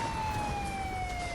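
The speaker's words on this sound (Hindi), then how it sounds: "सुबह करीब 6 बजे कीव में सायरन बजने शुरू हो गए थे" An air raid siren sounds over Kyiv during a Russian attack, one long steady wail that slides slowly downward in pitch, loud and continuous over a dull background rumble, with no talk.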